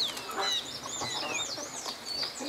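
A rooster on a rural farm clucks and calls in short, bright bursts close by, with a few quick repeated notes in a quiet yard.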